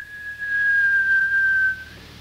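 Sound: shrill whistle sound effect on spoken word album

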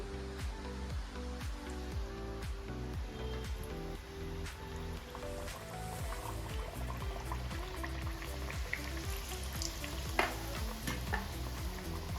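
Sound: frying sweet jaggery puris in hot oil

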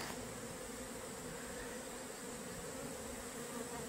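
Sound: swarm of honeybees buzzing on a pine tree

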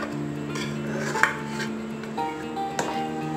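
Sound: knife run around edges of cake in tin

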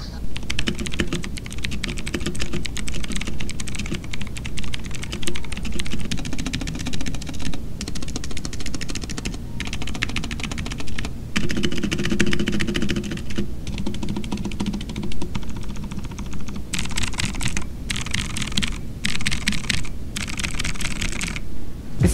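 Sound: typing sound test on a keyboard with a rubber case

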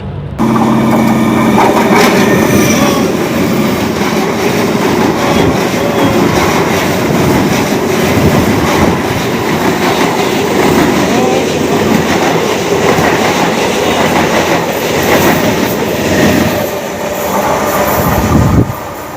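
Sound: passenger train riding on rails

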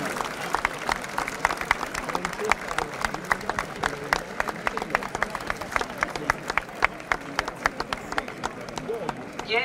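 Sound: crowd applauding at the procession of the saints in Lecce

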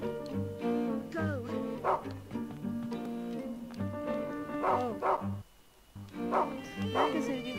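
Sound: dog barking in the video game Rule of Rose

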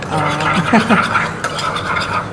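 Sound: stirring tuna with wasabi to mix

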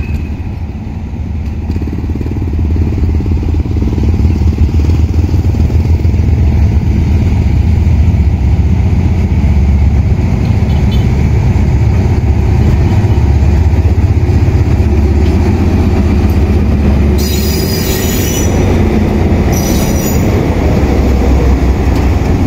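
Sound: passenger train reversing into track 2 at Kantang station

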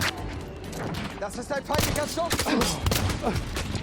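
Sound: single-shot shotgun firing in video game Battlefield 1

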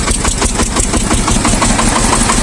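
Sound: Shifeng 240 mini tractor engine running after winter

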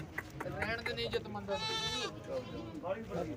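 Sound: sheep bleating at a livestock market

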